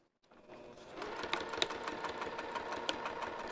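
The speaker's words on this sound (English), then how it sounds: "I'm going to finish sewing that." Sewing machine stitching the strap of a vinyl zipper wrist pouch, starting after a brief silence and running as a rapid, steady mechanical whir with fine rhythmic ticking, close and alone.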